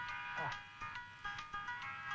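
A phone ringtone plays an electronic melody of repeating bright tones in short pulses, fairly quiet, with a voice briefly heard near the start.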